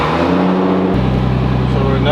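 A cold 2JZ engine swapped into a Nissan 350Z idles with a steady, loud low rumble that drops to a lower, even tone about a second in and then holds.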